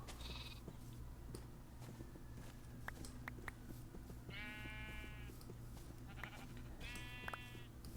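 Sheep in a game bleat a few times, two clear drawn-out baas and a shorter one, moderately close over a steady ambient hum and faint clicks.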